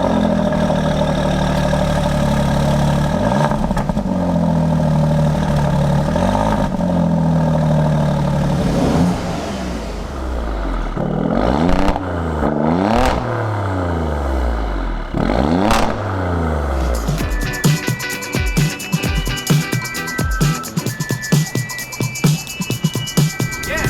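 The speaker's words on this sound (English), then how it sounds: "when you are at idle or you're going very low speed, you can hear the power of the engine by the sound." A 2018 Alfa Romeo Stelvio Quadrifoglio engine runs with its exhaust valves open, idling and moving at low speed. A deep, steady rumble shifts pitch in slow swells, then breaks into sharp, rapid crackling pulses near the end.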